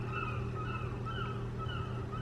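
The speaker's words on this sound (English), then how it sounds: "can you hear the birds?" Birds calling outdoors: several repeated honking, goose-like calls over a steady low rumble of background noise, moderately distant and not very loud.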